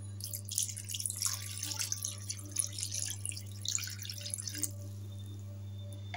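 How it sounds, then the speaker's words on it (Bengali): Water is poured into a pot of mutton and potato curry, giving a soft, continuous splashing trickle for several seconds over a steady low hum. "এবার আমি জল দিয়ে দেবো"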